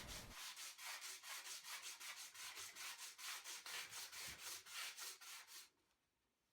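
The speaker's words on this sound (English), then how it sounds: "Easy work with a router plane and some sanding." Wood being sanded by hand to clean up excess material on a carved wooden chain, a quick regular series of rasping back-and-forth strokes, close and alone, stopping abruptly near the end.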